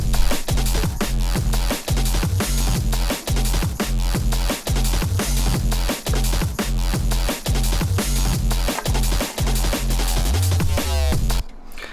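Looped electronic drum beat with a punchy FM synth bass line running steadily underneath, loud and dense throughout with a brief break near the end.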